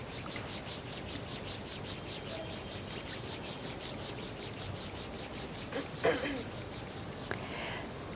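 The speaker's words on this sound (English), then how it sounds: "gently rub the palms of your hands against each other" Palms of the hands rub against each other in a steady, soft back-and-forth swishing rhythm, close and gentle, continuing for several seconds with faint background noise.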